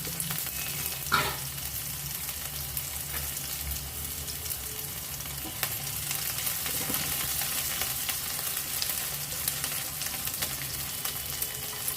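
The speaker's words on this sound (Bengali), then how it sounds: "কালো জিরে ফ্রাই হয়ে যাবার পর দিয়ে দেব রসুন কুচি আর কাঁচা লঙ্কা কুচি।" Chopped garlic and green chilli frying with nigella seeds in hot oil for a beetroot fry, a steady broadband sizzle throughout with a brief clatter near the start and occasional faint stirring scrapes.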